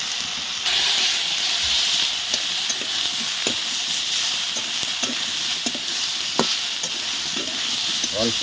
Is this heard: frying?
yes